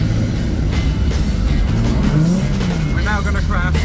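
A drift car looping a figure of eight, with a loud roaring engine and tire squeal rising toward the end, up close and continuous, mixed with voices talking.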